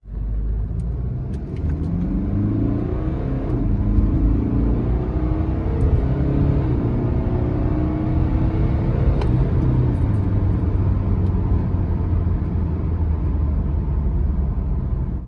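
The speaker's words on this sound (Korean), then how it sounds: "저희가 스포츠 모드에다 놓고 가속을 했는데 역시나 BMW입니다" A 2012 BMW 320d diesel sedan accelerates hard in sport mode, its engine a loud, steady rumble with rising harmonic sweeps through the gears, heard from inside the cabin without talk.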